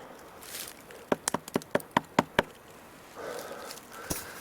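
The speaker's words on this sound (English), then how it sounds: "Try knocking." Eight sharp knocks of wood on wood ring out in a quick, uneven series beside a hidden stick structure in a wet forest, fairly close and distinct over quiet outdoor ambience with a faint rustle afterward.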